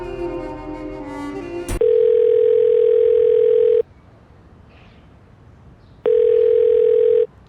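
Telephone dial tone on a call that will not connect: two long steady electronic tones, the first about two seconds and the second just over one, separated by a quiet gap, following a brief busy stretch.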